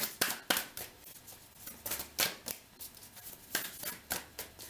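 Tarot cards shuffled by hand give a rhythmic string of papery riffles and soft slaps, close and fairly loud, with no voice over them.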